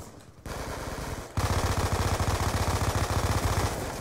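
Rapid automatic fire from MP7 and MSMC submachine guns in Black Ops 2 on Nuketown, PC: one burst starts early, then a louder steady stream of rapid shots runs to the end, with no talking.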